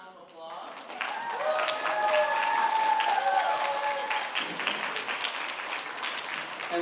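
A middle school band winter concert audience claps for the students' parents, a swell of applause building quickly and holding steady before tapering slightly, with a voice speaking briefly at the start.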